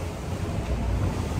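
Steady, loud wind noise and rushing sea surge around a racing sailboat on an offshore round-the-world Ultim race near the southern ice zone, a constant roar with no voices.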